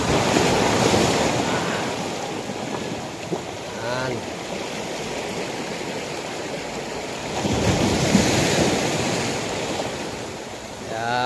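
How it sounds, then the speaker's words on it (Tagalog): Powerful surf pounds the coastline at Ternate, Cavite, a continuous rushing wash under gusty wind noise, swelling with bigger breaking waves near the start and again toward the end. "Lakas ng alon mga katimpogi."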